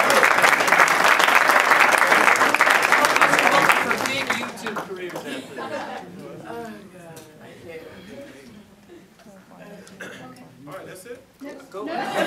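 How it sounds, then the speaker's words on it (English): Audience applause at a televised panel event, loud dense clapping for about four seconds that then fades away as a voice begins talking. "A big round of applause for you."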